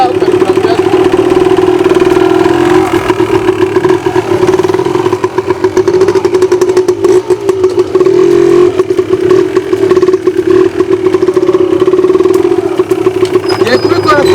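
A motorcycle engine running steadily and loudly while the rider shifts through gears, with a constant close droning hum and small dips at each change. A voice talks over it throughout.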